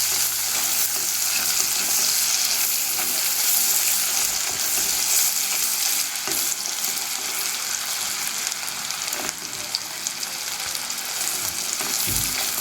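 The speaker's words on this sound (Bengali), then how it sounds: "পেঁয়াজটা হালকা ব্রাউন হওয়া অবধি আমি একটু ভাজবো।" Chopped onions fry in a pan while being stirred, making a loud, continuous crackling sizzle with scraping movement throughout and no voices.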